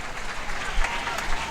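Audience applause at a jigsaw puzzle championship semifinal, steady broadband clapping from a crowd lasting the whole moment, fairly loud and even with a slight swell midway, with no talk over it.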